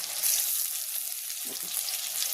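Pieces of rohu fish fry in hot oil with a dense, steady, hissing sizzle, close and continuous, with a few soft pops and no voices.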